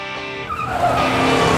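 A car in a comedy film scene skids with a loud tire squeal over engine noise, a short burst that swells and holds to the end.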